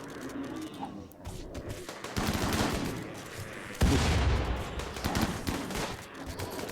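Grenade explosions and gunfire in the video game Rimworld, a dense rattling barrage with heavier bursts layered in, loud and continuous across the stretch.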